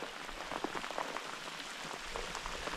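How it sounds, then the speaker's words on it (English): Rain from a storm rolling in falls steadily on a surface outdoors, a dense patter of drops heard close and fairly faint, with no voices. "this storm was rolling in and here comes the rain"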